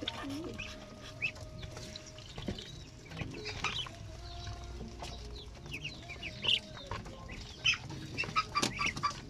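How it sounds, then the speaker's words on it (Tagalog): Ducks and other fowl in a farmyard, giving soft clucks and short calls along with wing flaps, scattered and close, over low rustling with no talk. "Ito na yung mga pato."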